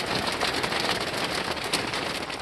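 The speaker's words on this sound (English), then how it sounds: "we're getting a little bit more of that sleet" Sleet, mostly pea-sized with a few larger pieces, falls on a hard-shell rooftop tent, a dense continuous patter of pelting ice close by with no talking.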